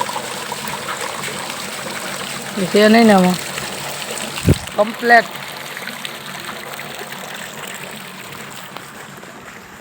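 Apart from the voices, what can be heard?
water running from a motor pump at a dam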